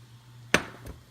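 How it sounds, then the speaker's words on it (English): Onions dumped into a pot of oil that has not yet heated, a single sharp clattering thump followed by a smaller soft knock, close and brief over a low hum. "I'm going to dump the onions in right now."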